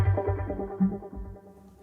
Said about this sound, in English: And this is basically an ARP synth that actually sounds great